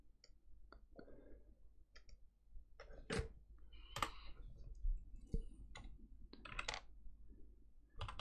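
Computer mouse clicks on a browser button come as sparse, sharp, quiet ticks spread irregularly over several seconds against a faint low hum, with no voice.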